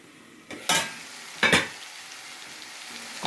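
Potato chicken curry sizzles steadily in a pan, broken by two scraping bursts of stirring close by, with no voices.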